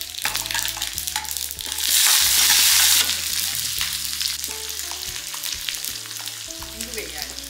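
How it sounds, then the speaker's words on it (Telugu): Chana dal, urad dal and mustard seeds fry in hot oil as a tempering for a jackfruit husk mustard curry; a loud, bright sizzle bursts up in the middle and then settles into a steady crackle over background music. "పోపులు వేయాలి. శనగపప్పు, మినప్పప్పు, ఆవాలు,"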